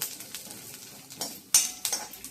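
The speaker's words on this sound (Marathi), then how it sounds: "असं हे आपण छान आता जरा भाजून घेणार आहोत।" Peanuts and garlic are roasted in a pan for a chutney, with a spoon scraping and clinking against the metal in an irregular series of stirring strokes over a faint background sizzle.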